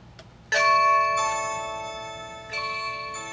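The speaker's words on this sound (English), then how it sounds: "The doorbell itself has a chime" A Blink video doorbell chime rings after the button is pressed: a loud, close two-tone ding-dong with long ringing overtones that fade out, followed by a second tone starting near the end.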